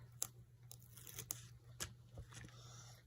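Tape backing being peeled off the flap of a handmade mini paper journal, heard as faint, close crinkly tearing and crackling bursts, quiet and irregular over a low steady hum.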